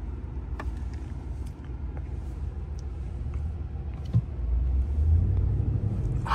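A pickup truck engine rumbles while driving off-road through a western US desert vehicle recreation area, a continuous low drone that swells louder midway as the truck pulls harder.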